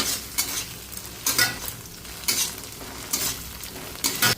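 Ginger garlic paste with chopped green chillies sizzles in a hot pan while a utensil stirs it, the steady frying hiss broken by several sharp scraping bursts spaced roughly a second apart.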